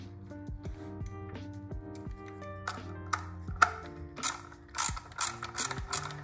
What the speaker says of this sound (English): And then I'm gonna use this socket here. That is a 10 mil.